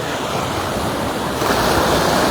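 Ocean surf rolls and breaks steadily on Waikiki Beach in Hawaii, a loud continuous wash of waves with some wind noise over the microphone and no talking.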